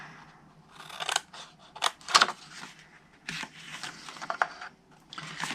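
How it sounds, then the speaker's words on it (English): Scissors snip through cardstock up to a score line while a paper Easter Peeps box is made. Crisp, close cuts come in short irregular bursts with quiet pauses between them. "cut it to the first score line"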